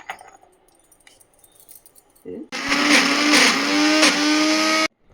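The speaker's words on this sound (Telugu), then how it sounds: "ఇప్పుడు మిక్సీ పట్టుకొచ్చినాను" A mixer grinder grinding chutney starts up abruptly and grinds loudly for a few seconds with a steady, buzzing whine, then cuts off sharply. Quiet handling noises come before it.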